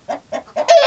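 A young rooster chick gives three short, soft clucks in quick succession, ending in a slightly longer, higher peep, close by and alone.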